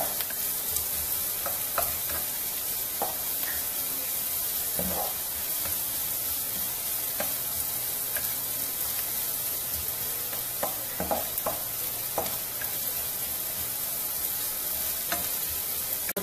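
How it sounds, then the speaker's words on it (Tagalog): Onion and garlic sizzle steadily in hot oil in the pan where stuffed milkfish, rellenong bangus, will fry, a continuous dense crackle broken by faint utensil clinks as the mixture is stirred. "Dahil dito po natin ito-fry si rellenong bangus."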